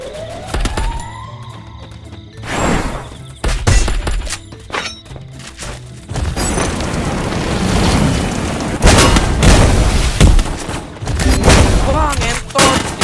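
A grenade explodes in a shooter video game, with heavy booms and bursts of gunfire crackling through dense, chaotic battle noise that stays loud throughout.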